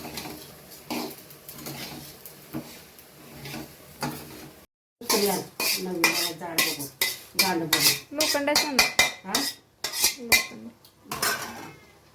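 Coriander seeds being dry roasted in a pan, heard as clattering metal scrapes and tapping of a utensil against the pan, quiet at first and then a dense burst of irregular clinks.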